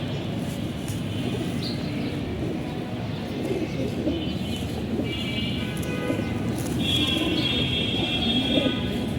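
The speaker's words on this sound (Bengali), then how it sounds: "এগুলো আমার সব ব্রিডার কবুতর।" Breeder racing pigeons cooing in a loft, low soft coos repeating over a steady background hum, with occasional higher chirps and rustling throughout.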